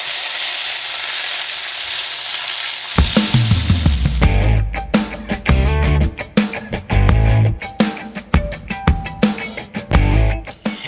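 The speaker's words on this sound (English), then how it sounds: "I'm going to pop it in here and fry them up a little bit in the butter" Gnocchi frying in butter with sage: a soft steady hiss at first, then a loud burst of sizzling and crackling as they hit the pan, with sharp pops and spatters continuing close up.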